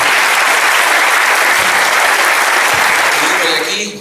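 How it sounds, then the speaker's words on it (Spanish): Dense, loud applause from an audience greeting Alejandro Cao de Benos at a gathering, a steady wash of clapping that holds evenly for about four seconds before starting to fade. "al cual recibimos un aplauso grande que se lo merece"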